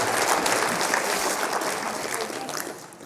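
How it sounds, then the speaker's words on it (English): Audience applause from a room full of people, a dense steady clatter of clapping that holds strong for about three seconds before easing slightly toward the end, with no voices on top. "give yourselves a round of applause"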